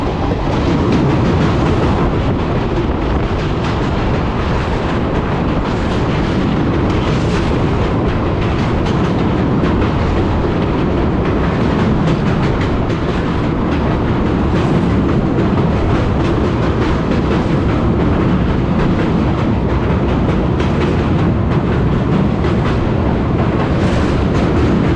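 Haldibari Kolkata Intercity Express running on rails, a loud, unbroken rumble of carriages with steady wheel clatter heard from inside the train throughout.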